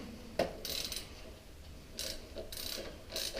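Ratcheting clicks from a tool in screw mode tightening a nut on a Yamaha MT09 SP motorcycle, a sharp click followed by several short bursts of rapid ratcheting, close and moderately loud, with no talking.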